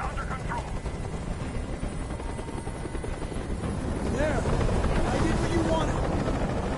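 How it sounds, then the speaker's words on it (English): A helicopter in the video game Detroit: Become Human hovering close by with a steady, heavy rotor throb, continuous throughout and swelling slightly louder toward the end. "Tell that helicopter to get out of here."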